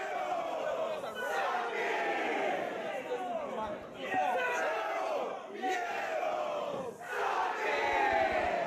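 A wrestling crowd at a Lucha Brothers versus Santana and Ortiz tag match cheers and shouts continuously, a dense roar of voices swelling in waves with louder surges throughout.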